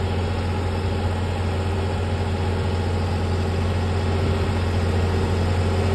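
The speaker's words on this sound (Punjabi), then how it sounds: "ਨਾਲ ਨਾਲ ਸੁਪਰ ਹੀਟਰ ਚੱਲ ਰਿਹਾ" A New Holland 5620 tractor engine runs steadily while pulling a super seeder in a field, a continuous loud low drone with a deep rumble and no breaks.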